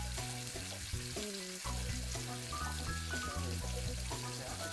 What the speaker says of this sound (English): The sizzle when we put the meat in is a really good sign that we have the pan up to temperature.